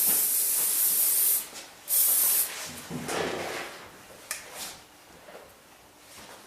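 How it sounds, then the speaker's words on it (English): Hairspray is aimed at a boy's freshly cut and styled long hair in short hissing bursts, two strong sprays followed by several fainter ones, close and alone. "Then I always like to finish by spraying it."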